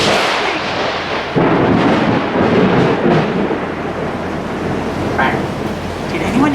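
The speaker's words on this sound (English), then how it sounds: "that was quite an aggressive sounding lightning bolt" Loud thunder from an aggressive lightning strike rolls and rumbles throughout, a sharp surge partway in followed by sustained booming that never fades to silence.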